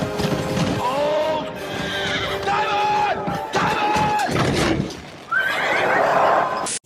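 Horses pulling a chariot in an Asterix race whinny loudly several times over rolling clip-clop hooves and crowd noise, ending with a crash-like burst, all close and busy.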